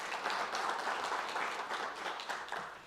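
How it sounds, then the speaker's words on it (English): A conference audience gives a warm round of applause for a speaker, a moderate, fairly even spread of clapping lasting about three seconds with no talk. "please give a warm round of applause for Lucy"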